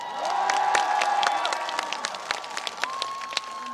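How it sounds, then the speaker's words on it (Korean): An outdoor crowd at a trot concert during the 2025 Cheongsong Apple Festival applauds, steady clapping mixed with scattered cheers and a lingering held tone that fades as the claps thin out. "박수 좀 많이 주십시오."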